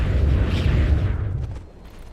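Leshrac's Diabolic Edict explosions in Dota 2 merge into a loud, rumbling burst that tails off after about a second and a half, leaving quieter game ambience.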